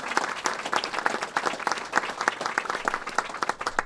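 Audience at an Illinois Tobacco 21 legislation signing claps for Mayor Emanuel, a sustained, dense round of indoor applause lasting several seconds at even strength.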